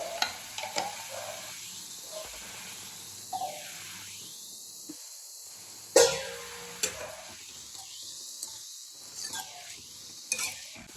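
Vegetables fry in a pan for pachadi chutney, a soft steady sizzle punctuated by intermittent spatula scrapes and knocks against the pan.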